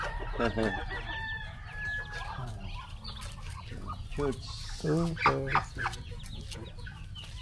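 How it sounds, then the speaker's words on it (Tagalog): Chickens cluck and squawk close by in a busy flock on a farm in Guagua, Pampanga, with a rooster crowing briefly, while a person speaks a couple of words. "Marami ang manok."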